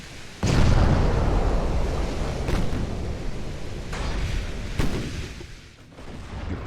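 Warship secondary guns firing in Ultimate Admiral Dreadnoughts, a naval combat game: a sudden heavy blast followed by a sustained rumbling barrage with several sharp repeated gun reports, loud and close, with no talking.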